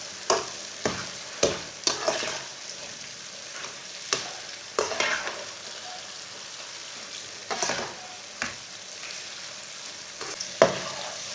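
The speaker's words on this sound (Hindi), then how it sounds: "चीनी डाल के 5 मिनट के लिए दोबारा चम्मच चलाते हुए भून लेना।" Semolina halwa made with ghee and sugar fries in a pan, a steady soft sizzle broken by a dozen sharp scrapes and taps of a stirring spoon, close and alone with no voices.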